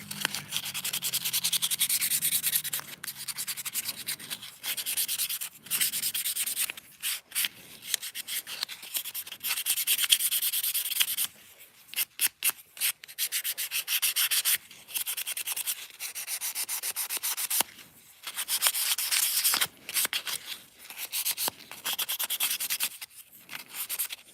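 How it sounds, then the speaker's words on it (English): Fine 400-grit sandpaper rubs over a miniature wooden chair in quick, close, scratchy strokes of uneven length with brief pauses between them, and no one talks. "I'm gonna take the 400 grit and just go over it again really quick"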